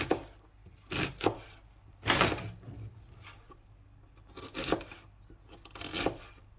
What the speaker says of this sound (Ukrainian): я найбільш часто нарізаю цибулю саме кубиками